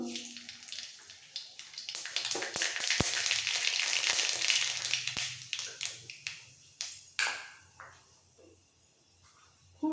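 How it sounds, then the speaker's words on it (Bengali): Black mustard seeds hitting hot mustard oil, a loud hissing sizzle that swells then breaks into scattered popping crackles as it settles, close up with no speech. "সর্ষের তেল ভালোভাবে গরম হয়ে গেছে দিয়ে দেবো সামান্য একটু কালো সর্ষে ফোড়ন"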